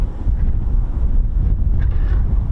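Steady, heavy wind buffets the microphone outdoors at a busy airfield during an F-35B display, a constant low rumble with no talking.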